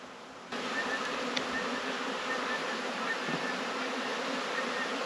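A dense, steady buzzing of many bees fills the air, continuous and close, with no voices.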